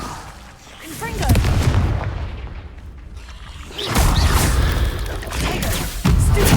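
Confringo fire spells blast in Hogwarts Legacy, loud booming explosions with whooshing bursts repeating across the moment, some crashing impacts, under game action.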